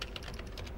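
Quick, light keystrokes on a Lenovo IdeaPad Slim 3 Chromebook keyboard as a Linux terminal command is typed, a soft close clatter of several taps with no voices.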